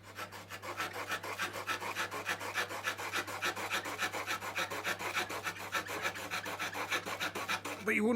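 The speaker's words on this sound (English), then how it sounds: "give it a go, so we can cut a bit off this bit of wood here" A Trojan 4-in-1 utility knife's saw blade cutting through a piece of wood, a rapid rhythmic rasping of even back-and-forth strokes, close and fairly loud, with a steady low electrical hum underneath.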